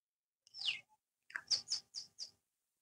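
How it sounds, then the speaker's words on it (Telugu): Birds chirping on a farm at sunset: one sharp call, then a quick run of four bright chirps, clear against an otherwise quiet background. "బర్డ్ సౌండ్స్ చూసారా ఎంత ప్రశాంతంగా ఉందో ఇక్కడ."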